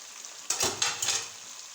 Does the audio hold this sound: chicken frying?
yes